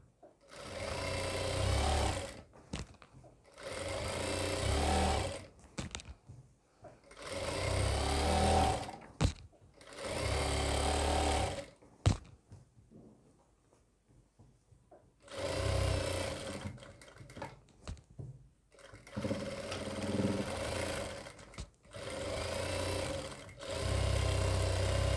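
A sewing machine stitches a churidar pajami in several runs of steady, fast mechanical whirring, broken by short pauses and a longer quiet gap with small handling sounds.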